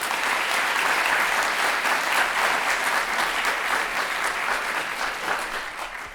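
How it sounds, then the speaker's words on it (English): Sustained applause from an audience at a university's state-of-the-university address, dense and steady clapping that tapers slightly toward the end, with no speech over it. "So one more round of applause."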